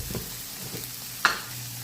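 Squid stir-frying in a pan as Kashmiri chili powder masala goes in, a steady soft sizzle with one brief sharp scrape or clink partway through.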